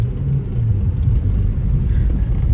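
A Maruti Ertiga car drives on a road, giving a loud, steady low rumble of engine and tyres from inside the cabin, with no clear voices heard.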